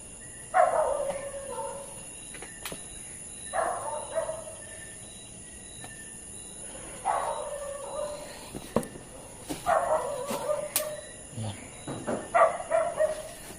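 Repeated dog barks, distant and hollow-sounding, come in short bursts every few seconds over a night-time outdoor background with a steady insect drone.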